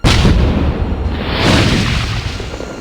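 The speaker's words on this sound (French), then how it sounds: "Annule l'explosion, tu m'entends?" A loud explosion booms in a Tomb Raider remastered cutscene, a sudden deep blast that rolls on as a heavy rumbling roar and slowly fades.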